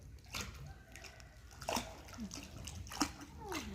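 A child kicks their legs during a swimming lesson, splashing water in short bursts close by while voices talk over the sloshing.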